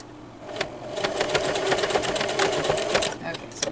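A sewing machine runs in a steady, close mechanical rattle while stitching a purse lining with a zigzag stitch, the whirring motor and needle clatter holding for several seconds without pause.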